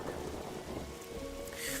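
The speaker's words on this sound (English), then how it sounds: "Now we're getting rained on." Steady rain falling in a video game scene, a dense even hiss with a low rumbling undertone, swelling slightly toward the end; no voices.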